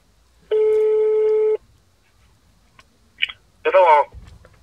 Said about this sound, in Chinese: 我先打个电话上他家去取蘑菇